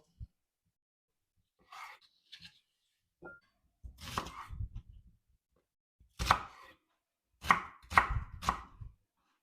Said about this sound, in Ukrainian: Нарізаю я усе середнім кубіком.